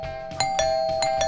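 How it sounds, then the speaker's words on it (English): A doorbell pressed at a house sounds a bright chiming ding-dong with a sustained tone and repeated strikes, loud and close, no talking. "Oh, look, there's a doorbell. Let's try to press it."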